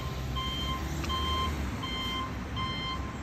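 A reversing truck beeps in a steady, evenly spaced series of high electronic tones over a low, rumbling background.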